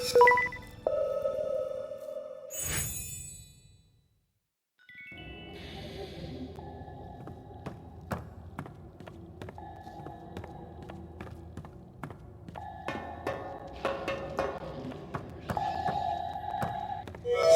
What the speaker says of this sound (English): Find the notes humming in the darkness.